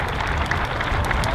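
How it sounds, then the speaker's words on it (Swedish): A crowd at the Gatebil drift festival at Mantorp Park applauds in a brief, dense, steady wash of clapping with no clear pauses. "En stor applåd för Drift Monkey."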